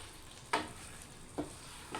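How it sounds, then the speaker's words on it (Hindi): Cauliflower is stirred in a frying pan for aloo gobi: a quiet, faint sizzle broken by three soft spoon scrapes spaced about a second apart. "मैं 1 केजी गोभी ऐड करूँगी। अच्छे से इसे मिक्स कर लें।"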